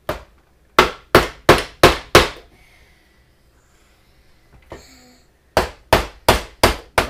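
A hand hammer strikes in two quick bursts of five sharp, close blows each, with a quiet pause between them during a hands-on building project.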